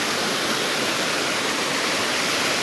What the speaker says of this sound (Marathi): तो वरती धबधबा